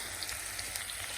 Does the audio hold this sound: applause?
no